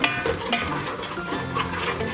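Ginger, garlic and coriander powder frying in a pan for Guntur-style fish curry, a close, dense sizzle with quick stirring scrapes, brief and without speech.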